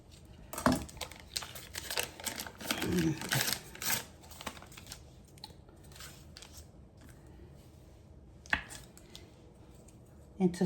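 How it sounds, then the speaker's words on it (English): A knife cuts a stick of butter into pieces for a chicken and rice casserole. Close, quiet taps and crinkles come in short bursts, densest early and then sparse with a few isolated clicks. "And we're going to cut our butter"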